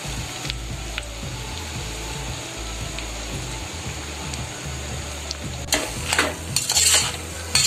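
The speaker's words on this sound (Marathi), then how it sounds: "ही भाजी अशी आपली परतून घ्यायची" Potato bhaji for Navratri fasting being sautéed in a pan with chillies, a steady close sizzle under repeated scraping and stirring strokes, with louder utensil clatter near the end.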